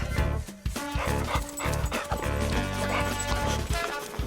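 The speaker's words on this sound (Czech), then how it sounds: "Hele, mají tu psa." A dog barks repeatedly at close range, loud and sharp, with short whimpering sounds between the barks and some background noise, in a Czech comedy scene.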